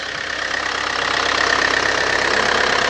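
An Opel Vectra 2.0 DTH diesel engine runs just after a cylinder head overhaul, idling with a loud, steady, close clatter and a fine rapid knock, with no voices.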